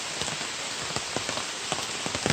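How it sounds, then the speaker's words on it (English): Heavy rain pours through a forest on the Cat Gap and Butter Gap loop in Pisgah National Forest, a dense steady hiss with close drops pattering on nearby surfaces, loud and continuous. "it's raining pretty hard now"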